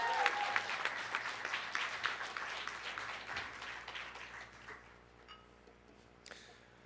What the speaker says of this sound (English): could we all have a round of applause for the true voice of the USC, Michaela Harrison